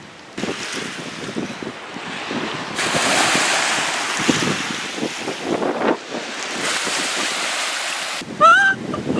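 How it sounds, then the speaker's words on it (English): Strong gusts buffet the microphone on the Lake Ontario shore as waves wash in, a loud, roaring mix of wind and surf that swells and drops in bursts. "It's a little windy."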